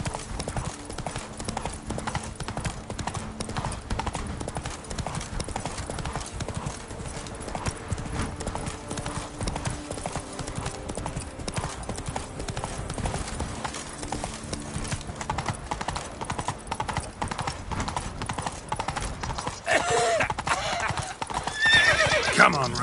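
Steady clip-clop of Roach's hooves trotting in The Witcher 3 video game, the horse snorting and whinnying near the end over continuous ambient game sound, with a voice talking at times.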